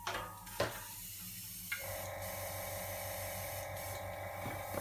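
An airbrush spraying Daler-Rowney ink bubbles back while a blockage clears: a steady airy hiss, fairly faint and close, holding evenly after a short sputtering start, with no talk over it.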